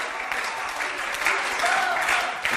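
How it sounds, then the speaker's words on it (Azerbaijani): An audience at a live stage performance claps steadily in a full, continuous round of applause. "Gülağanı bir yaxşı-yaxşı alqışlayın"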